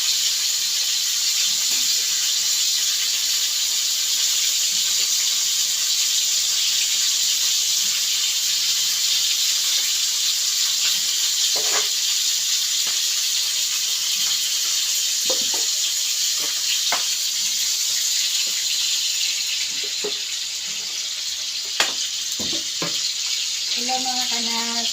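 Food fries in a pan in a home kitchen, a continuous sizzling hiss held at a steady level, with scattered light clinks and utensil taps and a few faint voices in the background.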